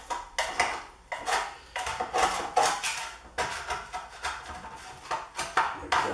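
A utensil scrapes caramelised bits off the bottom of a pan while making chicken and roast red pepper sauce: repeated rhythmic strokes, close and fairly loud, about a dozen in quick succession.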